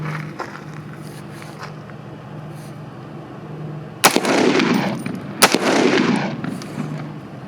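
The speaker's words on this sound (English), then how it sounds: "Right now we're shooting some of the Fiachi brass ammunition right now." Two sharp gunshots from a PSA KS-47 pistol firing Fiocchi brass ammunition, spaced about a second and a half apart, each loud and close with a short echoing decay over a steady background hum.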